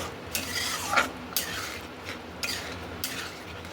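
Salt and turmeric with spices being sautéed for a soybean curry, a spoon scraping and stirring in a pan in four distinct strokes over a soft steady sizzle, close and fairly quiet, no talking.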